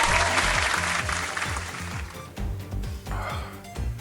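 Clapping from a crowd, loud and continuous at first, then thinning into scattered bursts with a rhythmic beat running underneath.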